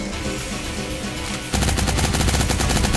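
Gunfire in a mobile battle royale game, with rapid automatic bursts whose rattle turns louder and more sustained halfway through, dense and close.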